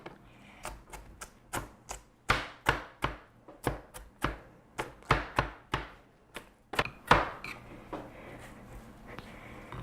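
A knife chops vegetables into rings on a cutting board, around twenty crisp, sharp strikes in an uneven rhythm with short pauses between bursts, close and clear with no talking.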